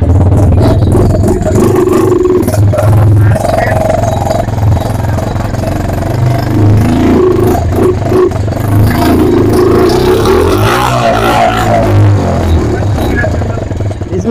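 A homemade vehicle powered by a Pulsar 180 bike engine runs loud and close, with a steady rough drone, clattering and rising revs throughout, and people's voices only faintly in the background.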